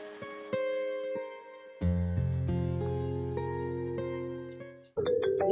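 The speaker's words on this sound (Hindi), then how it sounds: "अरे ये तो सपना का फोन है" Mobile phone ringtone for an incoming call, a bright synthetic melody of sustained tones rising in steps, close and clear with no voices, then cut off by a brief clatter.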